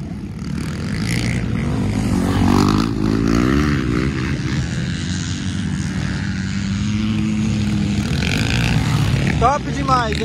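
MX3-class motocross motorcycles race on a muddy track in Faxinal, Paraná, with engines revving and droning at a distance while people talk excitedly nearby.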